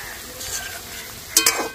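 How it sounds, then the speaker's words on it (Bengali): Cabbage vegetable balls for veg Manchurian deep-fry in oil over low heat, giving a steady soft sizzle with a couple of sharper crackling bursts near the end. "অল্প আঁচে আস্তে আস্তে করে ভাজতে হবে।"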